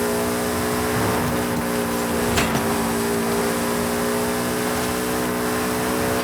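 A VW Beetle (Vocho) engine in Forza Horizon 5 holds a steady, loud droning hum as it accelerates, a continuous buzzing tone running through the whole stretch with no talk.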